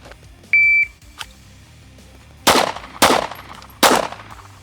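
A shot timer gives one sharp electronic beep, then three loud pistol shots ring out at uneven intervals about a second apart, close and alone.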